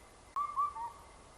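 A cuckoo gives a short whistled call, a few soft falling notes heard faintly against a quiet background.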